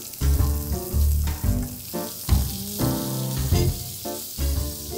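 Generous butter sizzles loudly in a pan with seared meat and toasting garlic, a close, continuous frying crackle swelling in waves with no talk.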